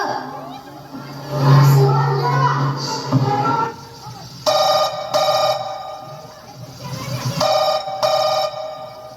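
A telephone rings on an incoming call in two electronic ringtone bursts, after earlier chatter and a voice.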